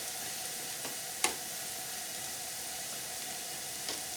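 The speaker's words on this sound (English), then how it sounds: "I'm going to add the frozen peas to the barley, let them kind of cook while there's still some liquid left in with the barley" Frozen peas hit a pot of barley pilaf still holding some cooking liquid, giving a steady soft sizzle and simmer with a sharp click or clatter near the middle and a couple of fainter taps.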